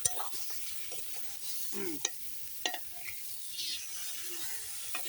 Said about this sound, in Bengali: আর একটু নেড়ে চেড়ে দিই